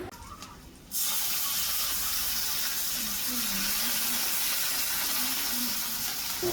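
Water pours into a hot pan of fried onion and green chili for prawn curry, bursting into a loud, steady rushing hiss that continues close and unbroken, with faint voices in the background.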